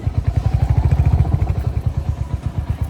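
A Suzuki Intruder motorcycle engine idles up close, a loud, even low-pitched thumping pulse that holds steady for a few seconds with no talk over it.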